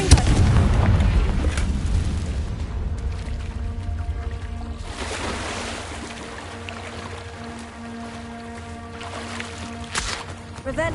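Confringo fire spell blasts in the Hogwarts Legacy video game: a few booming explosions with crackling tails, one near the start, another around midway and a sharp one near the end, over a tonal game soundtrack.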